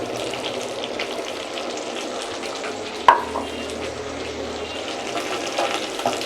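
Carrot and pepper frying in a pan for beef pilau, a steady close sizzle with a sharp clatter of utensil against the pan near the middle, no talking.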